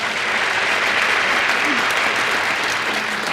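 A live audience breaks into continuous applause, a dense even patter of many hands lasting several seconds, loud and close without pause.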